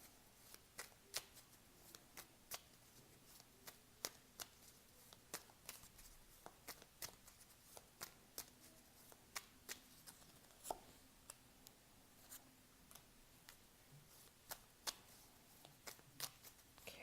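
Tarot cards being shuffled in a quiet room, a steady series of sharp, crisp riffles and slaps repeating every half second or so, close and fairly soft, with no talking.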